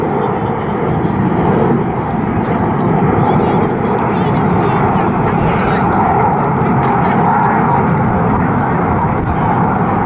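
Red Arrows jets of the RAF performing at the Southport Airshow, a broad continuous roar of jet engines filling the sky at steady loudness throughout, with a voice speaking over it.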